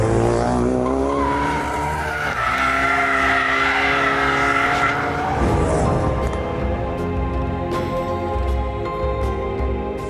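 A 2016 Ford Focus RS with four-wheel drive and Drift Mode drifts with tires skidding, a loud sustained squeal over a revving engine that rises and falls throughout.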